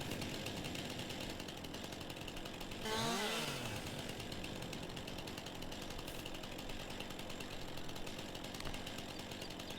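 A chainsaw in Farming Simulator 22 cuts a tree stump, with a steady buzzing drone throughout and a brief revving surge near the start.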